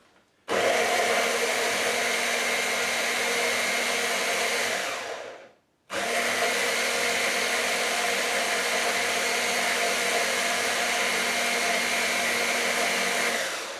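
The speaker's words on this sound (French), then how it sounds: "vous allez broyer donc, votre mélange huile d'olive, donc vous allez faire une sorte d'émulsion, hein, huile d'olive, ail et sel" Food processor grinding olive oil, garlic and salt into an emulsion, a loud steady motor whine in two long runs separated by a brief stop, close by with no talking.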